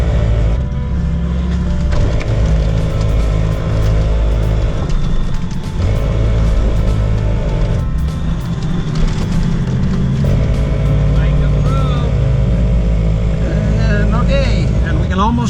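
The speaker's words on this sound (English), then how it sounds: "I'm gonna throw the locker on, and we're just gonna drive out of here." An off-road vehicle with its locker engaged grinds out along Cliffhanger Trail, its engine droning steadily and loudly throughout, with a few clunks and creaks from the rocky terrain and some background voices.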